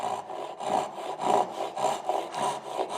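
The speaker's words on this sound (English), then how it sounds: "I'm just going to do a couple little passes to get that saw kerf started" A Japanese ryoba saw makes short rhythmic strokes into wood to start a kerf, about seven rasping passes in three seconds, close and alone.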